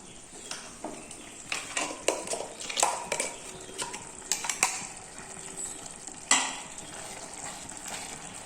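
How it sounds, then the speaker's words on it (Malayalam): Ground coconut paste is added to a simmering vegetable kurma and stirred with a spoon, giving soft scraping and clinks against the pot over a faint bubbling sizzle, with a sharper knock near the end. "ഇനി നമുക്ക് ഇതിലേക്ക് അരച്ചു വെച്ചിട്ട് തേങ്ങയുണ്ടല്ലോ അത് ചേർത്തി കൊടുക്കാം."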